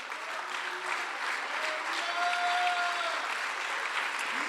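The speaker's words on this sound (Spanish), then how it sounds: "un aplauso a Cristo" Congregation applauding Christ during a church service, a full, even roar of clapping from a large crowd with faint voices and a held tone woven through.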